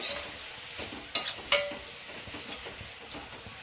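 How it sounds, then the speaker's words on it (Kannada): Onions frying in a pan for a restaurant-style rajma masala curry, a steady sizzle and hiss with a couple of sharp stirring scrapes of the spoon partway through, and no talking. "ಚೆನ್ನಾಗಿ ಆನಿಯನ್ ಫ್ರೈ ಆಗಬೇಕು. ಅಲ್ಲಿವರೆಗೂ ಚೆನ್ನಾಗಿ ಫ್ರೈ ಮಾಡ್ಕೊಳ್ಳಿ."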